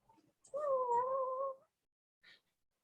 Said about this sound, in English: The cat, you can hear her.